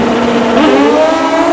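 Yamaha motorcycle accelerating hard off the line in a 1993 Prostar Summernationals sportsman drag race, a loud close engine howl with a steadily rising pitch through the whole short burst.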